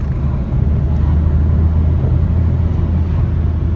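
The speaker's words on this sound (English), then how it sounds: "That's just us driving back down the road, heading towards workshop again" A Ford Focus drives along a road, heard from inside as a steady, close, low rumble of engine and road noise with no talking.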